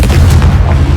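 Confringo explosive spell blast in Hogwarts Legacy, a loud deep booming burst that fills the whole moment with rumbling low-end energy and no voices.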